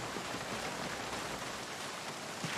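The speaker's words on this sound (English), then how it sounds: "You hear the rain off the metal of the car." Steady rain patters on the metal of a burnt-out car in a video game, a dense, even hiss of drops that stays constant with no voices.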